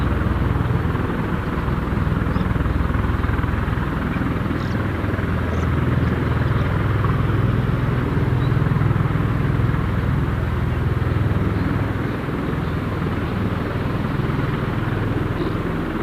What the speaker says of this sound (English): You can see both Ospreys now just taxiing along there.